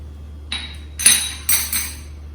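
A spoon stirs ginger and chili paste in oil in a pan for tomato pulao, making a few bright metallic clinks and scrapes against the pan over a low steady hum.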